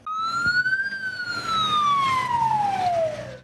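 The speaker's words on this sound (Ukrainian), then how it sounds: "Біля Маріупільського військового шпиталю виють сирени швидких." A single loud ambulance siren wails near a military hospital in Mariupol, its pitch rising briefly and then sliding slowly downward, close by with faint background noise beneath.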